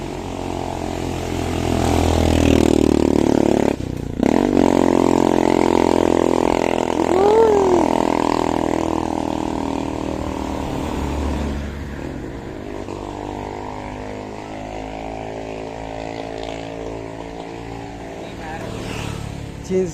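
A motorcycle labours uphill on a mountain road near Mount Bulalo, its engine note loud and steady with a pitch shift as it changes gear, while a rider talks over it.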